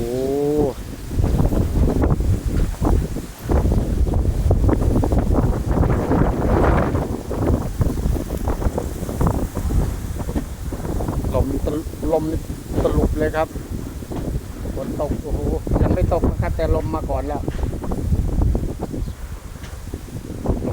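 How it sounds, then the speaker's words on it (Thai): Strong gusty wind before rain roars against the microphone throughout, with someone speaking excitedly over it. "ลมแรงนะครับ"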